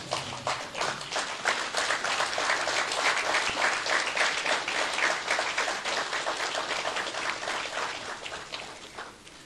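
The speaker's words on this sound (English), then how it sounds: "let us all stand up and give the President, Dr. Makathi Chakwera, a big round of applause" A standing audience at a national anti-corruption conference applauds the President of Malawi, a loud, dense wash of many hands clapping continuously that tapers slightly toward the end.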